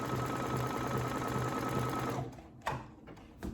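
A Brother Essence VM5200 sewing machine runs a steady, fast stitching hum for about two seconds, then stops, followed by a few faint clicks and handling noises.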